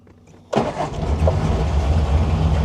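An old car being restored, its engine cranking and catching after the choke is pulled, bursting into a loud rough idle that keeps running steadily close by.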